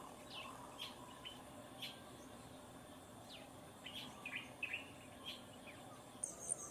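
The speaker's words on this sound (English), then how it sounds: "And family parties of green wood hoopoes." Green wood hoopoes in a family party at a Gambian lodge, giving scattered faint chirps and chattering calls at a distance over a steady insect and ambient hum.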